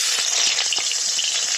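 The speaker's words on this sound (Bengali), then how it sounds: "চুলোতে কড়াই দিয়ে দিয়েছি, এটাতে তেল দিয়ে নেব।" Soybean oil heats in a wok on a village stove in preparation for frying fish, giving a continuous bright sizzle with small crackling pops, close and steady throughout.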